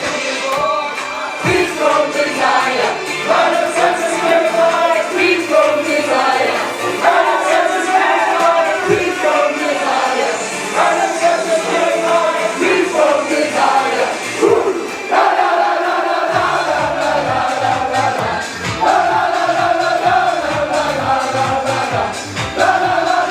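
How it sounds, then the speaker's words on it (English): Liverpool players celebrate winning the 2025 Premier League title in their dressing room, a loud, continuous wall of shouting, cheering and chanting voices with rhythmic bursts throughout. "the party has just about got underway inside that Liverpool dressing room"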